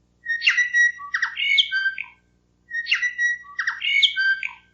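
A bellbird's call used as Radio New Zealand's interval signal rings out twice in clear, close succession, each phrase a bright cluster of chiming, warbling notes separated by a short silence.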